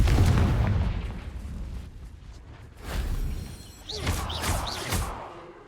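Confringo fire spell blasts in Hogwarts Legacy, a fantasy video game: booming explosions burst one after another, including a heavy rumbling blast early on and sharper magical bursts with crackling, whistling tails near the end.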